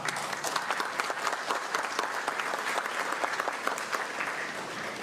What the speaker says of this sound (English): please stand, be recognized, and allow the court a nice round of applause